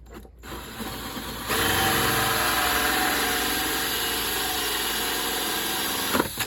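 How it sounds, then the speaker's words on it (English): A pole saw's small engine runs at steady high revs for several seconds, loud and close, after a brief quieter start, with no one speaking. "Be careful using a pole saw."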